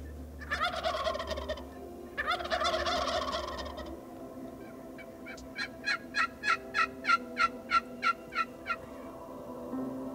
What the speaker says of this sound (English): They're gobbling like crazy.